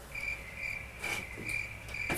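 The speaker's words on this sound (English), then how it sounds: "fucking crickets, man!" Crickets chirp in a steady, high, continuous trill, with a few louder pulsing bursts rising over the drone, fairly close and clear with no voices.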